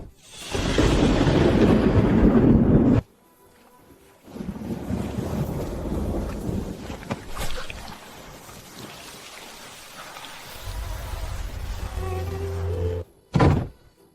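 Heavy rain pours down in a storm, loud and close, with gusts of wind. It cuts off abruptly in places, returning in waves with a few deep rumbles.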